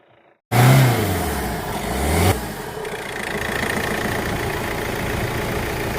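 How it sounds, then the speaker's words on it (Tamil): A Hyundai Creta car engine starts after a brief quiet moment and revs up loudly. It drops back sharply after about two seconds and then settles into a steady, close idle. "சார் மறுபடியும் ரைஸ் பண்ணுங்க சார்"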